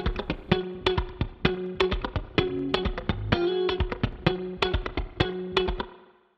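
Plucked guitar notes and strums in a steady rhythm, each attack trailing off into a springy, splashy reverb tail; no voices.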